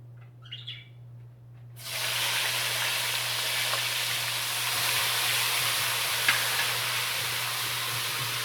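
Two tablespoons of garlic browning in very hot oil on a high flame: a steady, fairly loud hiss and crackle that bursts in suddenly after a quiet start and holds evenly, with no voices.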